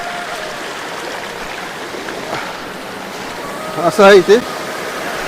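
Steady rushing water from the Dhababi waterfall, heard from its top viewpoint as a continuous wash that fills the background, with someone speaking briefly over it near the end.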